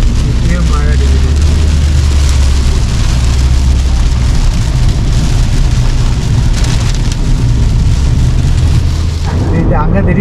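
Heavy rain pours steadily in Sabah, Borneo, a loud, dense hiss of drops hitting surfaces that continues unbroken throughout, with a brief low rumble near the end.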